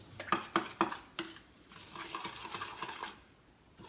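A spoon scrapes and clinks against a pan while sauce for pork steak is mixed with green onions and brown sugar, a few sharp metallic taps up front and then softer stirring.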